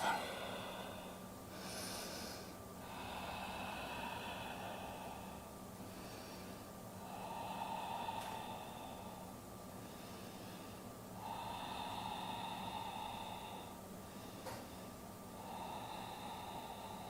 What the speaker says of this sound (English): And take a breath.